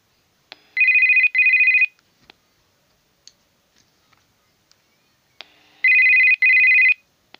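A Puxing PX-777 UHF two-way radio sounds a call ringtone twice, each a pair of short electronic tone bursts, separated by quiet clicks and handling noises.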